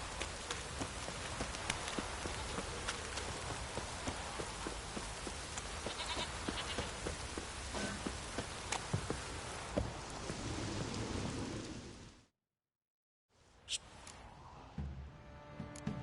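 Steady video game rain patters continuously with scattered sharper drips and taps, then cuts to silence briefly before a quieter stretch of rainfall resumes.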